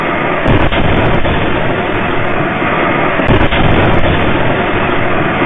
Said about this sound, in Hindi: धमाके की तेज रोशनी, घरों के कांच फूट जाते हैं,